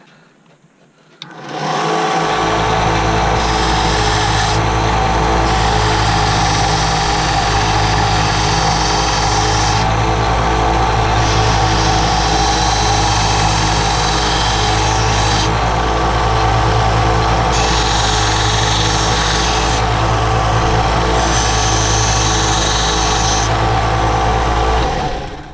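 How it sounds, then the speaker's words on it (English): A power tool sands a metal lightsaber hilt section, a loud steady motor whine with rhythmic pulsing that runs continuously for about twenty-five seconds after a brief quiet start. "So I'll start with this metal one, give it a sand."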